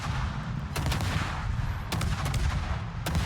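Heavy battleship guns in a naval video game fire in three sharp blasts about a second apart, each a loud broadband crack over a constant low engine rumble, with no talking.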